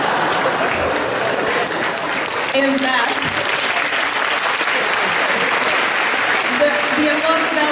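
A crowd applauds at the Willem C. Vis Moot 2019 entertainment program, steady, dense clapping filling the room while a voice speaks briefly over it.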